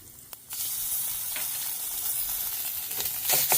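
Tomato paste hits hot oil with cumin seeds and black peppercorn and sets off a sudden loud, steady sizzle with hissing spatter that builds toward the end.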